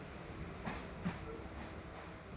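Steady low rumble and hiss inside a nearly empty passenger train carriage in motion between Basirhat and Barasat, with a couple of faint knocks; no voices.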